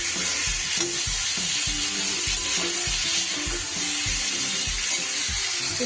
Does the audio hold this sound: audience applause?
no